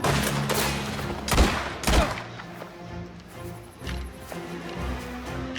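Gunfire in the video game Mafia The Old Country, a dense fusillade of shots with two louder bangs near the start, followed by scattered shots and battle noise with a steady game soundtrack underneath.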